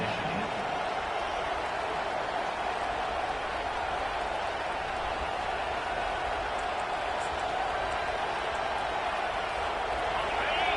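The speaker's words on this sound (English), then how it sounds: "This crowd bringing the energy and noise early." A large crowd roars continuously in a big open space, a broad steady wash of cheering and noise with a voice talking over it.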